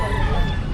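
Chickens cluck and crow close by in a steady, busy chorus with no clear pauses, like many birds kept together at an outdoor pet market in Bocaue.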